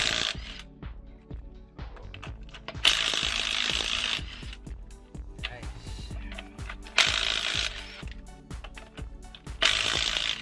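A ratchet wrench with a 19mm socket works a U-joint bolt on a Dodge RAM 1500, giving close, rapid clicking bursts separated by brief pauses and a few louder mechanical clanks.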